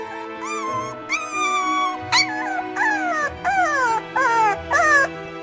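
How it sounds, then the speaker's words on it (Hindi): A cartoon dog whimpers and cries in a series of high, wavering whines, repeated about eight times over a soft background drone. "एक कुत्ते की रोने की आवाज सुनाई पड़ती है"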